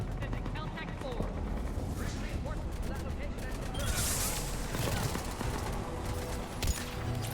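Gunfire in the Mass Effect 3 video game, a dense stretch of shots and bursts layered with busy combat noise and a louder blast midway, heard continuously through the whole stretch.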